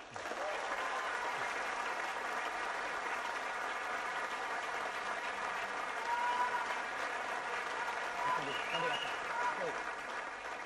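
A theatre audience applauds at the end of a French stage play, steady dense clapping that fills the room throughout, with a voice speaking faintly underneath.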